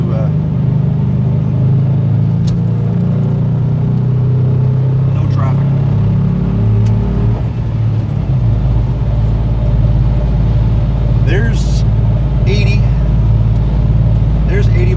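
A manual-transmission Ford Crown Victoria merges onto a highway, its engine a loud, steady low rumble with a rising pitch as it accelerates, while someone talks over it throughout.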